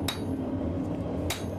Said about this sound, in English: Overlap your hammer blows. You don't really have to hit hard, just accurate blows.